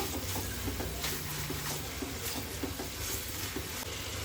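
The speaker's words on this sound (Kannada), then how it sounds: "ಇವಾಗ ಈರುಳ್ಳೆಲ್ಲ ಚೆನ್ನಾಗಿ ಫ್ರೈ ಆಗಿದೆ ಅಲ್ವಾ ಎಣ್ಣೆಲಿ" Onions frying in oil in a home kitchen pan give off a soft, continuous sizzle with faint stirring scrapes, fairly quiet and steady with no voices.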